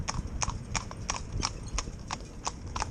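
Two horses driven in tandem clip-clop along with quick, even hoofbeats, about three per second, crisp and close over a low rumble of wheels and wind, and no one speaks.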